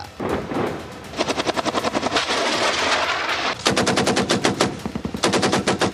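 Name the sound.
gunfire from cross-border shelling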